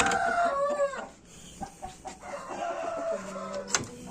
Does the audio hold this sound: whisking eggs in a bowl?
no